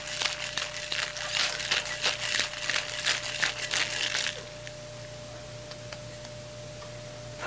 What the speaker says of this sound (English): Shake it up real nice.